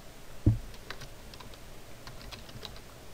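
Quiet clicks of typing on a computer keyboard, a sharp knock followed by a short run of light, irregular keystrokes close by with no talking.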